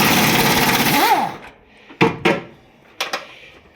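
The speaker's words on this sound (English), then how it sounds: "Just use power tools." A power tool buzzes loudly and winds down, followed by a few sharp knocks and clunks of metal being handled nearby during a Nissan 1400 stub-axle and hub replacement.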